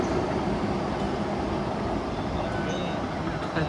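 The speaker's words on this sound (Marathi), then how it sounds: "Metro is going reach to Disneyland." Steady low rumble of a Hong Kong metro train heading to Disneyland running along the track, heard from inside a carriage, with a faint murmur of voices.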